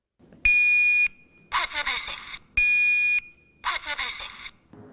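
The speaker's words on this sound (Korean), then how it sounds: "경보기가 설치된 주택은 화재 발생 시 큰 경보음이 울려 신속한 대피가 가능합니다." A residential smoke alarm sounds in two loud, piercing beeps, each about half a second long. A voice speaks in the gaps between the beeps.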